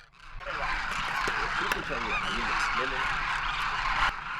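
Flock of birds at a feeding dune in western Rajasthan, dense overlapping honking and chattering calls that stay loud and busy throughout, close by.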